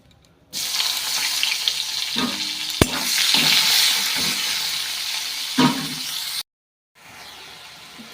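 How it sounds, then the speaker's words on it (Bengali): Chopped onion fries in hot spiced oil for a rohu fish curry, giving a loud, close hiss with a sharp clack and stirring scrapes, then cutting off abruptly before returning quieter. "ফোড়নটা হালকা নেড়ে তারপর আমি গোটা পেঁয়াজ কুচি দিয়ে দিলাম।"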